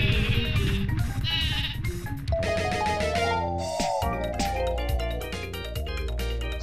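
Sheep bleats from the sleepy sheep item in the Paper Mario video game sound in a short series of clear, nasal cries, set over bright, layered game music and effects without any talking.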